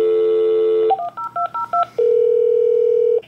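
Telephone keypad tones dial hotel room service from a luxury hotel room in Miami, opening with a steady dial tone, then a quick run of six touch-tone beeps, then a long ringback tone, all clear and close with no voices.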